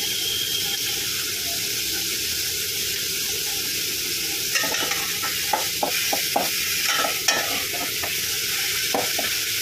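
Vegetables for pav bhaji sauté in a pan with a steady sizzle throughout, with irregular scraping and tapping clicks from stirring in the second half.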